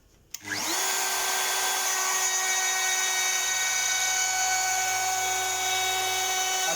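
A wood router guided by a side fence cuts a groove on its final depth pass, spinning up abruptly into a loud, steady high-pitched whine that holds without a break, with no talking.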